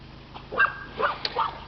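A puppy-age homestead dog barks and yips several times in short bursts at moderate distance outdoors, the calls separated by brief pauses with quiet ambient background.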